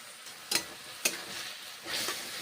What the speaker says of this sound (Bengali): এখন আবার নেড়ে চেড়ে রান্না করছি।